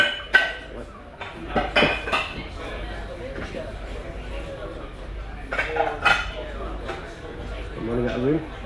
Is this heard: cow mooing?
no